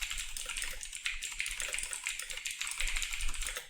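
Rapid keyboard typing at a computer, a steady run of close, light key taps lasting a few seconds with no talking.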